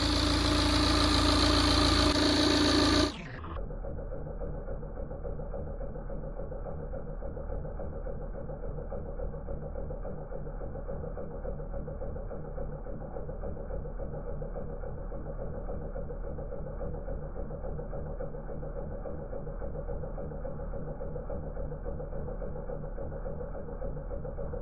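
A Tata Safari Storme engine idling after a timing belt was fitted, a steady even low hum that runs on for over twenty seconds after a brief louder burst of noise at the start.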